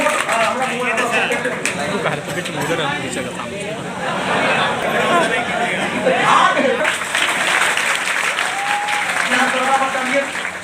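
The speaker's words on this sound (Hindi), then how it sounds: "जोरदार ताली हो जाए।" An audience at a coaching centre event applauds loudly, a sustained wash of clapping with voices and chatter woven through it for about ten seconds.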